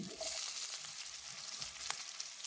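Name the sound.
onion, mustard seeds, curry leaves, dried chillies frying in oil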